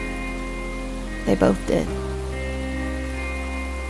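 Rain falling at a dark bus stop, a steady soft hiss of rainfall under a low hum, with a brief spoken phrase in the middle.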